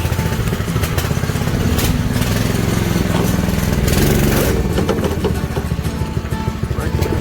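A cold go-kart engine running with the choke off, a loud, close, continuous rattling putter that holds steady throughout with a slight surge partway, alone with no talk.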